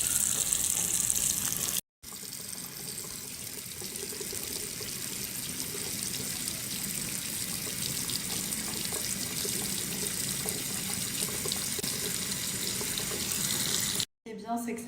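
Tap water runs steadily into a sink while a face is rinsed at it, a constant close hiss with brief cut-outs near the start and end, and faint voices underneath.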